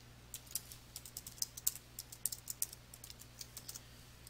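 Light typing on a computer keyboard while entering a vendor message into a purchase order in QuickBooks Pro 2015, with quiet, irregular key clicks coming in quick bursts at close range, no voices.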